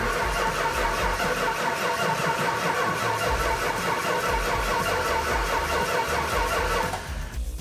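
A 1970 Hemi Challenger R/T engine cranking and trying to start, a steady loud rhythmic churning and chugging throughout that cuts off abruptly near the end.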